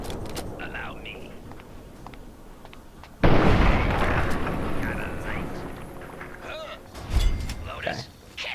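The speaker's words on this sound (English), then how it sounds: "Dear God, please don't with the missile launcher." A missile launcher explosion in Fallout 3 hits as a sudden loud blast midway, its rumble trailing off, followed by a second smaller burst, while someone talks throughout.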